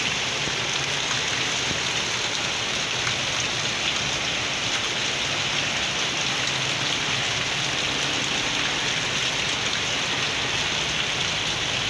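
Heavy rain pours steadily on a road in Tagaytay, a dense continuous hiss of falling water without pause, loud and close throughout.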